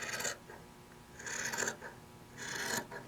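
Scissors trim the corners of a handmade fabric book diagonally: three quiet, separate rasping snips spaced about a second apart, each a short crisp burst with near silence between them.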